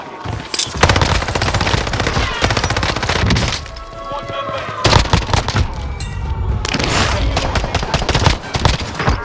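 Intense gunfight in Call of Duty Warzone on Rebirth Island, with loud, dense bursts of automatic gunfire and overlapping shots continuing almost throughout, briefly easing midway before resuming; a voice talks faintly underneath.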